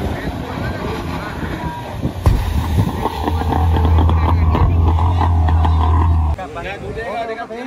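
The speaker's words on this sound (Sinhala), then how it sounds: "අට 40 බෝට්ටු එන්ජින් තරගය ආරම්භ කිරීමට සූදානම්" Fishing boats with 40 horsepower engines racing on the water at Wennappuwa Ulhitiyawa in Sri Lanka, a loud low engine drone rising mid-way and then cutting off, with people talking and wind buffeting the microphone throughout.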